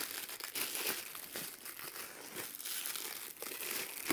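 Cellophane wrapping crinkles and tears as it comes off a cheap jewelry box. The rustling is continuous and close, soft but busy, with no voice over it.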